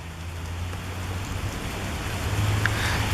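Steady rain falls around a railway site in Marietta, a dense even hiss of drops on surfaces with a low background hum, building slightly toward the end.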